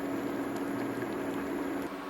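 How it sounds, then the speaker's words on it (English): Blackberries and sugar simmering in a pot, a soft continuous bubbling hiss with a faint steady hum underneath, close and even throughout. "I'm just going to let that simmer for a few minutes"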